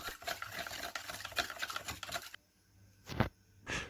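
Uncooked rice is stirred in water in quick, uneven scraping and clinking strokes, close and quiet. The stirring stops partway, leaving a few soft knocks.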